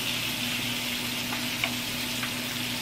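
Spices and crushed red pepper sizzle steadily in a pan for a shrimp spaghetti white wine sauce, a continuous close hiss with a few soft stirring scrapes and taps.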